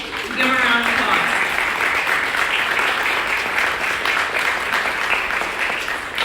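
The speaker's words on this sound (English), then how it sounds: "Give them a round of applause." Guests at a charity masquerade ball break into loud sustained applause, with dense clapping throughout and voices briefly audible at the start.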